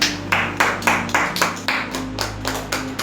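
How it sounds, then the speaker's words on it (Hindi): A congregation at a Hindi-language church service claps loudly in praise, a steady rhythm of about three sharp, unison claps per second over a low sustained hum. "तो हम परमेश्वर के लिए जोरदार तालियां बजाएं।"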